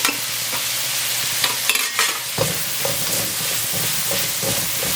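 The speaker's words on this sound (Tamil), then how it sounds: "வெங்காயம் நல்ல பொன்னிறமாக வெந்து வரட்டும்." Onions frying in oil with a pinch of salt for a catering-style aloo gobi gravy, giving off a dense continuous sizzle punctuated by regular scraping stirs of a spoon, close up with no speech.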